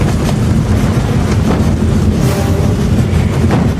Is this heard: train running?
yes